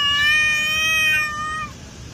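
A cat gives one long, loud, drawn-out meow up close that fades off at the end, heard alone against quiet outdoor background.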